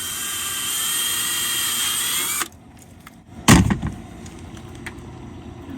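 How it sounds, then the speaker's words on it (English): A drill whines steadily as a 9/32 bit bores a hole for a catfish rig, stops abruptly, then a short sharp clatter follows before quiet handling noises. "I got a 9/32 drill bit here. I'm gonna drill a hole"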